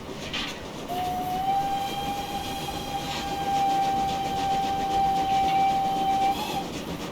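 A steam whistle on a BR78 4-6-4T tank locomotive in Train Simulator Classic gives one long, steady, clear tone of about six seconds over a low rumbling engine and rolling background.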